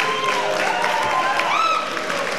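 An audience at a public meeting bursts into sustained clapping with some cheers, a dense, loud wash of hands holding steady throughout.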